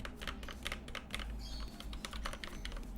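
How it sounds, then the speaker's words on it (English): A computer keyboard is typed on steadily in quick, uneven bursts of key clicks, fairly quiet over a low background hum. "Maybe they can do keyboard sounds."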